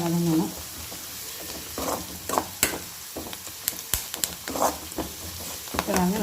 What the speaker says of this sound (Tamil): இதில் 3 பச்சை மிளகாய் எல்லாத்தையும் சேர்த்து நல்லா வதக்கிக்கணும். வெங்காயம் நல்லா வதங்கணும்.